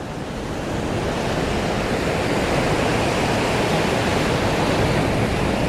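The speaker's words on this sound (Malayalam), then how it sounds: "കടൽ വളരെ പ്രക്ഷുബ്ധമാണ്" Rough, heavy sea waves pounding Shanghumugham beach in Kerala, a loud continuous roar of surf with a wind-like wash and no talking.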